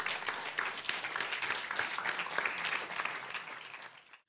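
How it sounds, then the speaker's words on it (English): An audience applauds after a lecture on Flavio de Carvalho, a dense, steady patter of many hands clapping that fades out abruptly at the end. "More applause."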